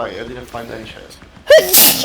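A single sharp sneeze bursts out near the end, loud and close, just after someone speaks in a game stream; talk continues around it.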